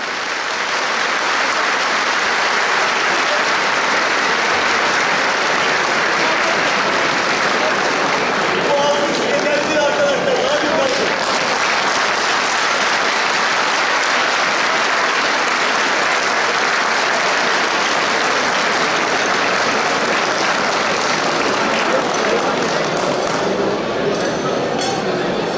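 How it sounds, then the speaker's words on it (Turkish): Sustained applause from a crowd sending off kitchen workers at a solidarity gathering, steady clapping throughout with faint clinks and voices mixed in. "alkışlarla uğurluyoruz sevgili dostlarımızı"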